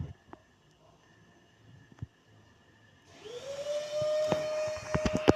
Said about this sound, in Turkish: Süpürge de gerçekten rahatsız ediyor beni.